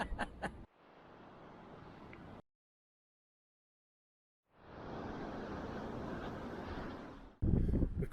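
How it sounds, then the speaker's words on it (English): Strong coastal wind buffets the microphone at Ness Point, the most easterly point of Great Britain, in long roaring gusts broken by a sudden silent gap before the rushing noise returns loud and close. "bit windy here today."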